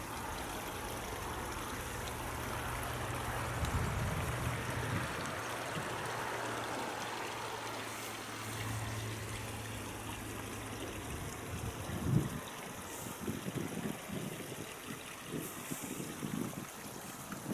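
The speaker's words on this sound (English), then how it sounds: "it looks like there's water all along this corridor here" Water running along a flooded corridor beneath a road, a steady broad rushing and trickling wash that stays fairly close and even throughout, with a low engine-like hum early on and a few knocks later.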